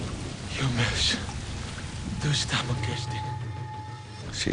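Steady heavy rain from a jungle film scene made by an effects team in Mexico, a dense continuous wash with people talking over it throughout.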